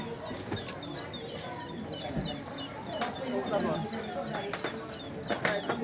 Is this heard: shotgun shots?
no